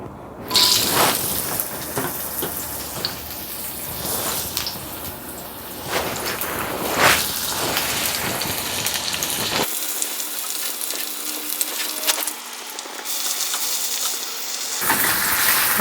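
Onion and okra sizzle in a little oil in a pan for a saltfish and okra dish. The frying hiss is steady and close throughout, and there are a few louder crackles along the way.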